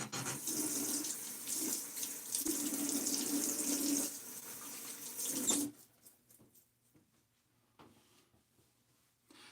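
Tap water runs steadily into a sink to rinse a Nacet razor blade, a loud continuous splash for several seconds that stops abruptly, followed by faint clicks and small handling noises.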